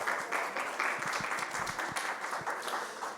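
Applause for the panelists after a panel on artificial intelligence as a tool in the professions, a soft, distant patter of many hands clapping that continues steadily and tapers slightly toward the end.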